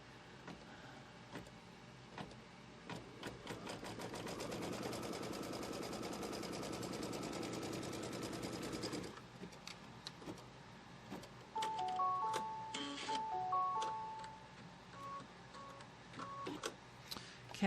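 An embroidery machine tacks fabric down on a quilt block in a quick burst of rapid stitching. It then goes quieter, followed by a few short electronic beeps from the machine.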